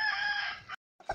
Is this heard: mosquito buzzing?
no